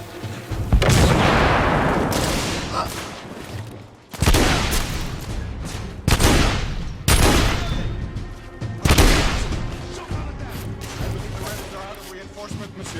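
Heavy shotgun blasts in the action game The Order: 1886, a series of loud booming shots each trailing off into reverberant battle noise, with voices talking in between.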